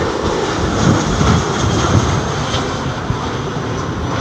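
Airliner at London Heathrow Airport, a tricycle-undercarriage jet, roaring steadily close by as a broad, loud engine rumble and hiss that swells slightly and then holds without pause.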